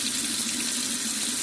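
Cold water pours steadily from a tap into a sink, making a continuous, close hiss that stays at an even level with no talk.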